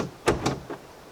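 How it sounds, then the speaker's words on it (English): The bonnet of a 2018 Jaguar F-Pace R-Sport being slammed shut: a loud close thump followed by two quick, fading knocks within about half a second. "Now, I'm not a bonnet slamming kind of person, but this car encourages it, because otherwise it doesn't shut."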